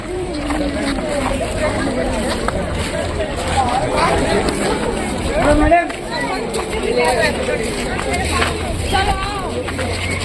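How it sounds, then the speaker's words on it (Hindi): A dense crowd of visitors at Qutub Minar in Delhi, many overlapping voices forming a constant murmur with nearby chatter and footsteps, steady and close with no single voice standing out. "और यहाँ की भीड़ की बात करें तो ऐसी है कुछ यहाँ की भीड़।"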